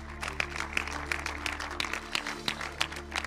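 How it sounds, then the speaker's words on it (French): Applause from the audience at a film festival closing ceremony as a prize presenter is welcomed, a steady patter of clapping from a crowd over a low constant hum, moderately distant. "On peut applaudir donc Roukia Abdou de Blue Efficience."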